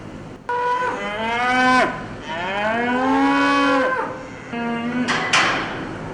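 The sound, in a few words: Hanwoo bulls mooing in a cattle barn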